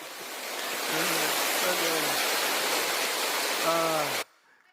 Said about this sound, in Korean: 이런 폭포가 이곳 정글이다에 있다니 정말 놀라울 따름입니다